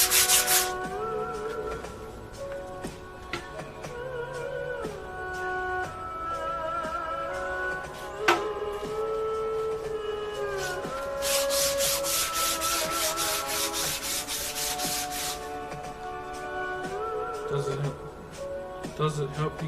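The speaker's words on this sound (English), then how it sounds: "I'm only sanding it so it looks beautiful" A wooden taiaha, a Māori carved staff, is hand-sanded with steady back-and-forth rubbing strokes that quicken into a rapid rhythmic burst partway through, heard up close with voices talking alongside.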